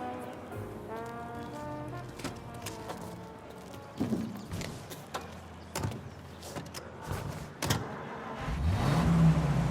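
Car driving in the video game Mafia: Definitive Edition, a steady engine hum with intermittent thumps and clicks, rising toward the end as the vehicle seems to accelerate.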